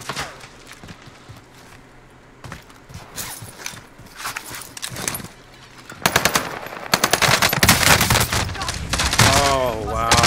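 Rapid automatic gunfire rattles through a Warzone firefight on the Fortune's Keep map, scattered shots at first, then dense, loud bursts in the second half, with a player shouting over the shooting.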